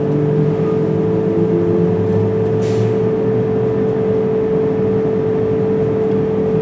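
A Swiss Pendolino or Re 460 electric train pulls away, heard from inside the driver's cab: a steady loud electric motor whine with a constant hum and low rumble, one brief hiss midway.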